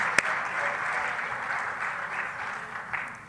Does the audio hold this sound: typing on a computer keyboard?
no